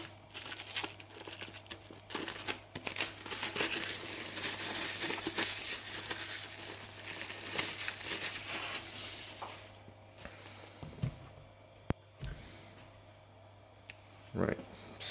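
Plastic wrap crinkles and tears off a Planet Hulk Omnibus book, a dense run of close crackling and ripping that thins out toward the end, with a few sharp handling knocks.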